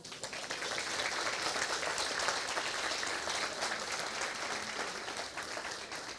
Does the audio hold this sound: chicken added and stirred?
no